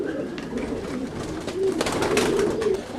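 Roller pigeons coo in a loft, soft throaty rolling calls that swell in the second half, close and steady over a dense bed of flock noise and rustling.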